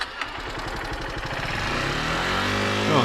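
A motorcycle engine revving hard while climbing a hill, a loud close rasping drone that rises steadily in pitch as the throttle opens, with no voices.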